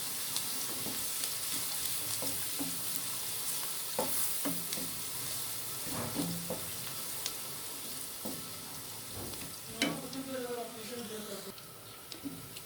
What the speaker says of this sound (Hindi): ऑयल मेरा गर्म हो गया है, इसमें मैं डालती हूँ अभी लहसुन, और इसको मैं थोड़ा सा फ्राई करती हूँ